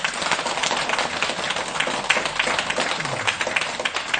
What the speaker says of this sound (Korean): 박수 크게 치세요